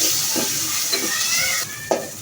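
Ground spice paste sizzling in hot oil with fried onions for a chicken curry, a close steady frying hiss with a few stirring scrapes and no talk.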